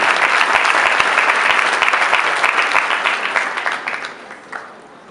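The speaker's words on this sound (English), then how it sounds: "So big round of applause to the steering." An audience at an address by a Consul General of India applauds the steering committee, loud close-up clapping from many hands that holds strongly, then tapers off into scattered claps near the end.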